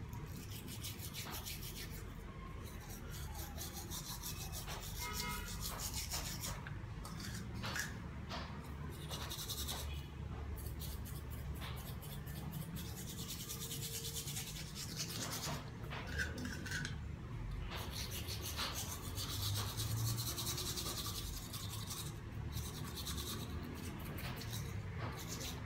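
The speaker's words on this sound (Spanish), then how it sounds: "Y ahora con nuestro cepillo vamos a empezar a limpiar nuestros dientes." Toothbrush bristles scrub steadily against teeth coated in a homemade whitening paste, a continuous close wet rubbing and scratching that runs throughout with no talk.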